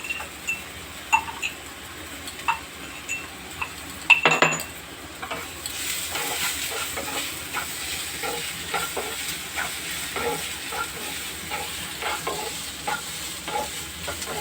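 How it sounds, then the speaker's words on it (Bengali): Garlic is stirred into a frying pan while cooking snake gourd in a spicy mustard sauce: a soft, steady sizzle with a utensil scraping and clinking against the pan and one sharp clatter early on. "এই রসুনটা অ্যাড করে দেব।"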